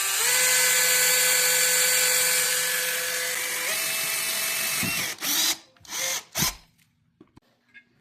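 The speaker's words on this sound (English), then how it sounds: "Now that we have an 1/8 inch hole drilled" A power drill with a 1/8 inch bit whines steadily at high speed, its pitch dropping partway through as it bores into a metal post, then stops with a few short clanks.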